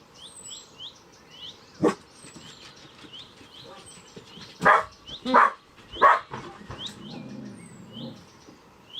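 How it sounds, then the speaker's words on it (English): Several dogs bark in scattered bursts, one sharp bark early and then a cluster of loud barks mid-way, with birds chirping and tweeting faintly in the background. "And then the world dissolved into a chaos of dog bark."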